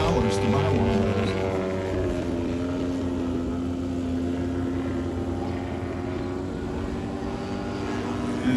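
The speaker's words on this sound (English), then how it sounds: "And this is the Jenny passing to the left right in front of us." A Curtiss JN-4 Jenny vintage biplane passes close by at an air show, its steady propeller-engine drone loud and continuous, with a few faint voices in the crowd beneath it.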